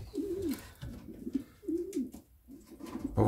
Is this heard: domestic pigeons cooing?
yes